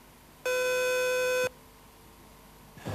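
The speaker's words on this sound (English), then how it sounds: "The unwanted subscriber will be cut off and gets preempt tone." Preempt tone on the Ptarmigan army telephone system, a single steady electronic tone lasting about one second against quiet line hiss.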